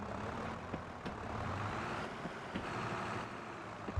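Fendt tractor engine in Farming Simulator 22, a steady low drone running throughout with a few faint clicks and thumps on top, no speech.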